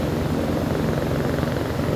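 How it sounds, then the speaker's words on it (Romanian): A helicopter approaching in the Himalaya, its engine and rotor making a steady, loud droning roar that holds level throughout. "Și un elicopter care vine acum."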